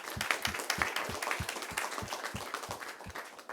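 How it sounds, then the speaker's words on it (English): An audience at a conference session on robust learning applauds the speakers. Dense, steady clapping from many hands fills the room at a moderate distance for several seconds. "We'll a round of applause for all the speakers"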